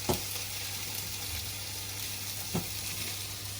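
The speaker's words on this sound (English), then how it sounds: "we've still got our sausages cooking" Sausages frying in a pan with sweet potato and onion, a steady close sizzle with a couple of faint clinks of stirring, no voices.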